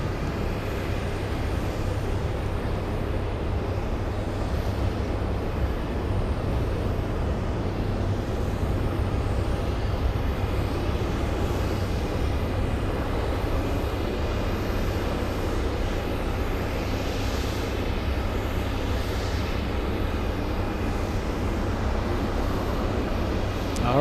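British Airways airliner lining up on the runway at Boston Logan, a steady low engine rumble and broadband jet roar that stays fairly even throughout, heard from a distance with no talking.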